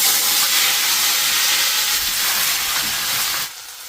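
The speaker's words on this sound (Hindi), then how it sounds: "ये सबसे मेन होता है भाई सरसों का तड़का।" Mustard seeds tempering in hot oil for an Uttarakhandi rajma dish give off a loud, steady, close sizzling hiss that cuts off abruptly near the end.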